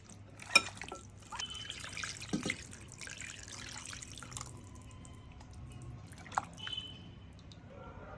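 Country chicken pieces washed with salt and turmeric in a bowl of water, giving scattered drips, splashes and trickles over a faint background, with a few sharper knocks.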